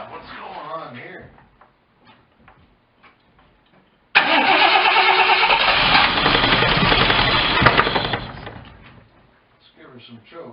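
An MGC GT car engine cranks and catches after a few faint attempts, roaring at a steady mid-pitched run for about four seconds before cutting out, with a voice speaking at the start and end.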